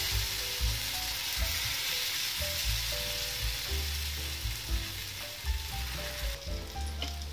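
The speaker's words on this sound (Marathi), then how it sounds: "धिरड्याचे बॅटर घ्यायचे आणि पॅन वरती असं टाकायचे" Jowar flour dhirde batter spread on a hot pan sizzles and crackles steadily, with scraping and stirring sounds from a ladle and a low background hum throughout.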